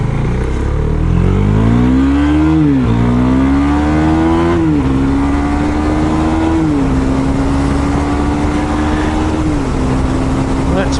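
A KTM 390 Super Duke motorcycle engine drones loud and close at high RPM while riding, holding a buzzy pitch that climbs and steps through shifts, with wind roar and talk blended underneath.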